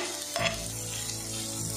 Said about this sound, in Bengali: পেঁয়াজ আর রসুনটা আমি ভাজা ভাজা করে নেব।